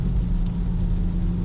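A Jeep Trackhawk drives over a wet road dotted with puddles, its steady low engine rumble and tire hiss filling the cabin, with a brief high splash-like hiss partway through.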